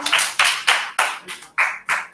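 Classroom applause for a student group: about seven sharp, evenly spaced claps in a quick steady rhythm, close and crisp, with no talking over them.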